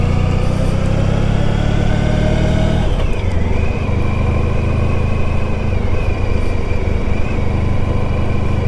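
A heavy classic motorcycle engine runs loud and close, its tone shifting down about three seconds in as the bike slows and settles into a parking spot, the engine note rumbling on steadily.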